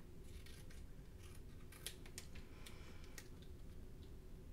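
Scissors snipping through an infusible ink sheet for sublimation earrings, a quick run of crisp, close cuts over a low steady room hum, with no talking.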